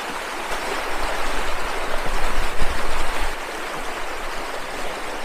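Graves Creek Falls near Thompson Falls, Montana, and its stream give a loud, constant rushing roar up close, swelling briefly mid-way, with no voices.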